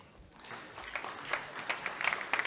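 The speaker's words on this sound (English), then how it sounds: "Round of applause, please." A conference audience at an energy technology panel applauds a speaker being introduced: a fairly quiet, scattered clapping that starts sparse and builds toward the end.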